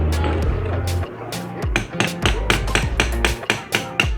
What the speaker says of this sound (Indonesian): sedikit pakai palu, pelan-pelan aja ya.